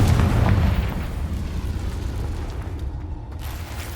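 A Confringo fire spell explodes in Hogwarts Legacy, a deep booming blast with heavy low rumble that starts loud and slowly decays over several seconds, with no talk.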